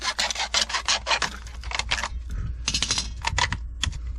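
Saw or blade cutting lengthwise down the center of a short piece of old 4-inch corrugated plastic pipe, a close, steady run of raspy scraping strokes with a brief pause midway, no talk.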